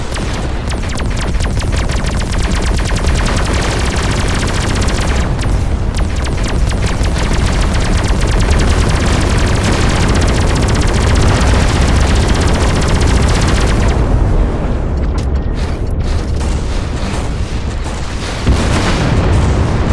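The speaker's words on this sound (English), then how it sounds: "there is a barrage of torpedoes incoming" A torpedo barrage and rapid turret gunfire in the space combat game Everspace 2 pound without letup, loud dense booms and chattering fire thinning slightly toward the end.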